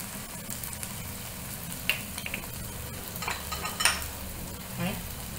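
Manchurian sauces (green chili sauce, soy sauce and vinegar) are stirred in a frying pan. A steady sizzle runs under occasional scrapes and clinks of the spoon against the pan.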